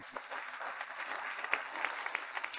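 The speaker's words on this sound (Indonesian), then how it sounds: "Mari sambut pasangan kita dengan tepuk tangan meriah." At an engagement party, a modest gathering claps steadily for the couple, a soft, even patter of many hands with a few sharper claps standing out, fairly faint and without talk.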